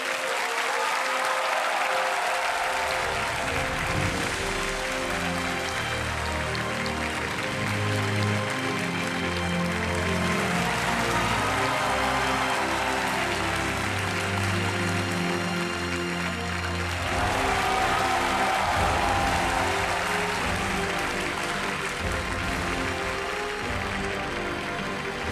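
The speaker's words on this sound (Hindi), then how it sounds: "जोरदार तालियों से अभिनंदन।" Sustained audience applause fills a studio on the KBC (Kaun Banega Crorepati) game show, a steady, dense roar of clapping with music playing underneath throughout.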